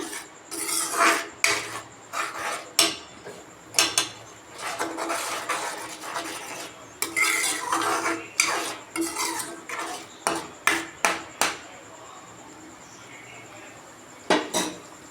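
A spoon stirs gravy in a pan while cooking paneer paratha: repeated close scraping and clinking strokes in irregular bursts, with short pauses between them and a quieter stretch near the end.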